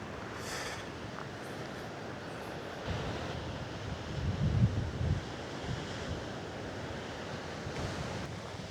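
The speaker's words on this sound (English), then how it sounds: "Look at these waves today." Ocean waves roll and crash along the rocky Lanzarote coast in the Canary Islands, a steady broadband surf roar with wind buffeting the microphone and a stronger surge swelling midway through.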